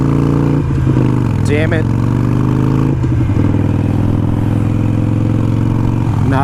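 Harley-Davidson Iron 883 engine with a Vance & Hines Fuelpak FP3 tune stalls and fires back up, its steady low rumble running throughout under a man's close, exasperated speech.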